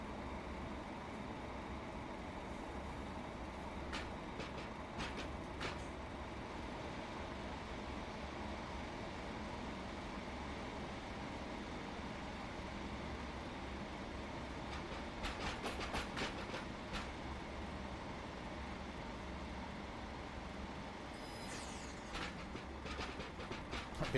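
A Pacer diesel multiple unit runs on the Huddersfield Line between Manchester and Leeds in Train Simulator Classic, with a steady rumbling drone and scattered clicks of wheels over rail joints throughout.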